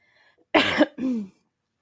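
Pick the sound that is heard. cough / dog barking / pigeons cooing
cough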